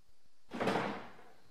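Door work on a BMW E30 Touring being restored, a single bump then a scraping, clattering burst as a door panel shifts, fading over about a second, close by and with no voices.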